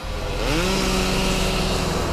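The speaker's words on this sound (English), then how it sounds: "there are chainsaws that are going because people are trying to free up their cars" Chainsaws run in a dark, powerless Henryville street after a tornado as people cut fallen trees off their cars; one saw drones loudly and steadily, its pitch climbing early before holding an even, high whine.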